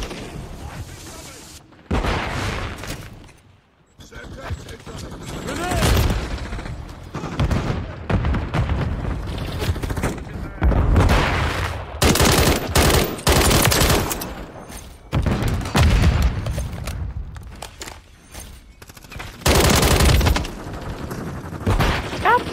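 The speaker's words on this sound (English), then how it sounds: "I'm taking fire." Gunfire in Call of Duty Modern Warfare III multiplayer: repeated loud bursts of automatic fire and heavy booms in irregular clusters, separated by brief quieter gaps, with a player's voice talking at times.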